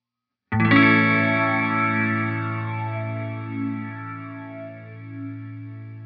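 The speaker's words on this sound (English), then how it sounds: "let's hear those filter sweeps across the reverb tail" A sustained synth chord swells in, then a reverberant tail rings on while a filter from an Encounter ambient delay and reverb slowly sweeps through it, producing gentle rising and falling whooshes.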